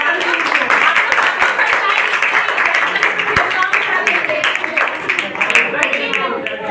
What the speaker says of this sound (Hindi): बहुत जोर से ताली बजाइए